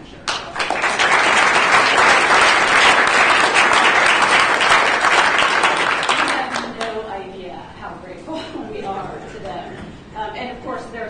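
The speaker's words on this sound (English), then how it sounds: "all deserve a huge round of applause" An audience at a law review symposium applauds, loud sustained clapping for around six seconds that gradually thins, then gives way to someone speaking.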